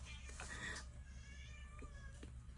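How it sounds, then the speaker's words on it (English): Cats fighting indoors, letting out a drawn-out strained meow and yowl near the start over a low background rumble, followed by a few short faint cries. "my cats are literally fighting"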